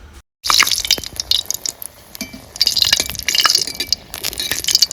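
A few dried red chilies fry in hot oil in a pan, giving a close, continuous crackling sizzle with sharp spitting pops throughout, and no voices.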